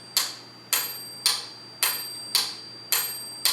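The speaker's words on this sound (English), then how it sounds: "It's going to ring a chime every 2 beats." A metronome set to 2/4 time sounds a bright, ringing chime on every second beat, with six evenly spaced strikes in about three seconds, each decaying quickly before the next.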